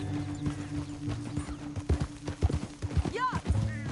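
Horse hooves clop rhythmically in a video game, with several louder hoofbeats near the end and a brief whinny, while people talk over them.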